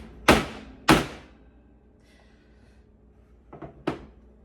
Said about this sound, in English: you bang it on the oven 3 times